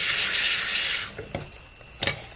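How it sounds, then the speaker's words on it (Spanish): Hot water runs from a tap to rinse tools for cleaning and disinfecting, a steady rush lasting about a second, followed by a few soft knocks and rubs as the tools are handled. "Voy a tallarlos bien, enjuagarlos igual con agua caliente"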